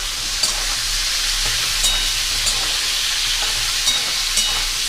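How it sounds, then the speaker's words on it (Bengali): Ridge gourd with chili fries in a pan for dalia khichuri while being stirred, giving a loud continuous sizzle broken by regular scraping strokes. "ঝিঙেটা দিয়ে দিব, নাড়াচাড়া করে তারপর নামিয়ে দেবো"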